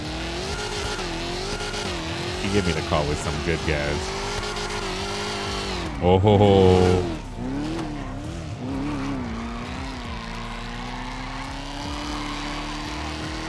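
Car burnout in GTA 5, a revving engine with a loud harsh tire squeal rising for about a second amid steady engine drone, with someone talking and laughing over it.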